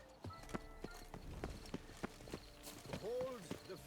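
Horse hooves clip-clopping at a steady trot in a video game, a run of regular, fairly close thuds, with a voice talking over them and a short whinny-like sound near the end.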